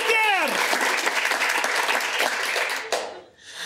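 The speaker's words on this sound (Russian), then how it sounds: "Давайте, аплодируйте." Audience applause at a comedy show, steady dense clapping that fills the room, with a voice shouting over the start before the clapping tapers off near the end.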